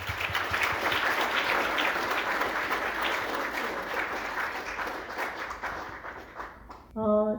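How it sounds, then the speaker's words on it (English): An audience applauding at an inauguration and internship completion ceremony, dense sustained clapping from many hands that gradually thins and fades, followed by a brief voice at the very end. "please give everyone a last round of applause"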